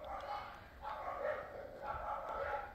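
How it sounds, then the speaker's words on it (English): Faint, distant dogs bark and yap back and forth in a few short bursts. "the dogs are not liking each other out there."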